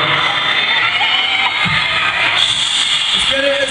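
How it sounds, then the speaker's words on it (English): Arena crowd at a concert in Liverpool, a dense, sustained roar of screaming and cheering voices filling the hall at steady high loudness throughout. "Can we get the whole arena to go completely quiet and scream as loud as we can?"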